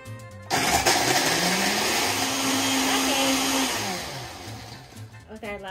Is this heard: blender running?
yes